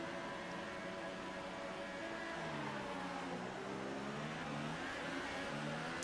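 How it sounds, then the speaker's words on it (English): A racing car engine revving high at a launch in the F1 2018 game, a steady loud drone with rising and falling harmonic sweeps and no talk over it. "Revs are on."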